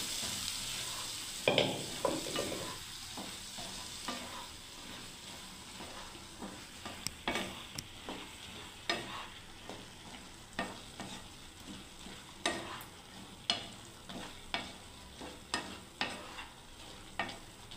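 Peas (matar) stir and fry in a pan of gravy while a spoon scrapes the pan in steady repeated strokes over a soft, continuous sizzle, close and fairly quiet, with no voices.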